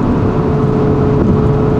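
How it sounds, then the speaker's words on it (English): A Hyundai i30's engine drones roughly under load during a drive, a loud, steady in-cabin hum with no breaks. "The engine is a bit rough"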